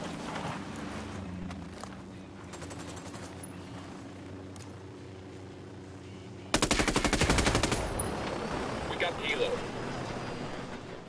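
In a video game, a long automatic burst of machine-gun fire is aimed at a vehicle. It bursts in loud and close after a quieter stretch of background noise and game sound, with a voice talking over part of it.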